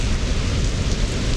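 Heavy rain in a radioactive storm, a dense, loud, unbroken roar with low rumbling thunder underneath, steady and close, no voices.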